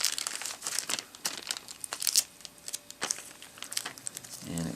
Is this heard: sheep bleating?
no